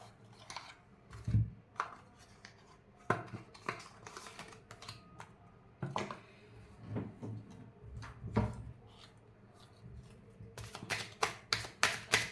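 A new deck of playing cards being handled and shuffled, giving a series of sharp, close riffling snaps and soft taps with short gaps between them, ending in a quick burst of crisp clicks.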